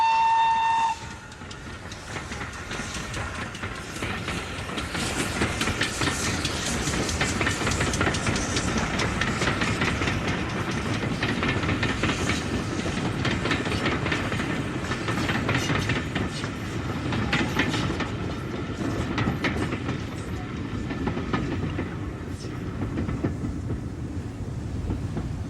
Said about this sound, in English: Here, a typical freight is headed by Tyseley's second engine, 7760.